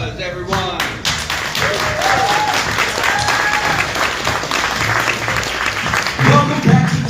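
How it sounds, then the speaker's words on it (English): Audience applause at a live music competition held at a smokehouse venue, steady clapping throughout with a few voices and whistles rising over it, swelling again near the end. "Applause, everyone."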